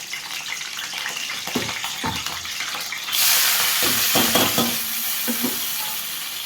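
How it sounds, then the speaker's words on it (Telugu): Curry leaves drop into hot oil for a country chicken curry, starting with faint scattered crackles and then breaking into a louder, steady close sizzle partway through. "ఆయిల్ వేడెక్కింది. కరివేపాకు వేస్తున్నాను మొదల."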